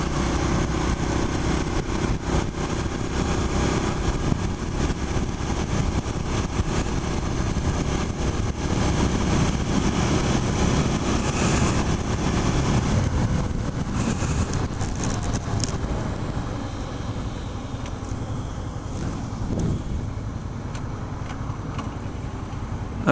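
A Suzuki SV650 motorcycle rides in first gear, its engine droning steadily and loudly for most of the stretch before easing off slightly toward the end, with no talking.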